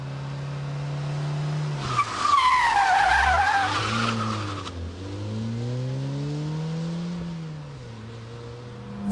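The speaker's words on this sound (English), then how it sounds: "Swing the wheel, hit the handbrake, get the clutch, and power out" A Ford Puma's tyres skid loudly through a handbrake turn, a rising screech over the revving engine that fades as the car powers out, with engine drone continuing afterward.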